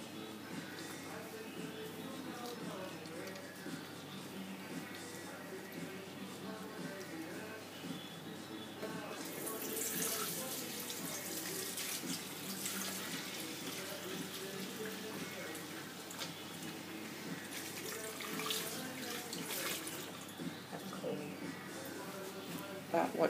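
A tap runs steadily into a sink while clothes are washed by hand, water splashing and sloshing close by, with a louder gush of flow partway through. People talk over the running water.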